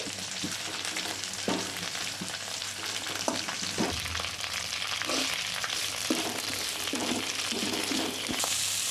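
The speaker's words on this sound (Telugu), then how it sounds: "కొద్దిగా వేగాక కరివేపాకు వేసేసుకోవాలి ఒక బౌల్ నిండా. ఇప్పుడు మిక్స్ చేసుకోవాలి." Curry leaves frying in hot oil in a pan for curry leaf rice, loud continuous sizzling broken by repeated scrapes of a spoon stirring them, close up and without talk.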